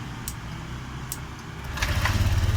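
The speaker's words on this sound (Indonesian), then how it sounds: "Motor nyala" A Honda Vario 125 scooter with an ECU fault cranks after a quiet moment with a few faint clicks, then its engine catches and settles into a loud, close, pulsing idle.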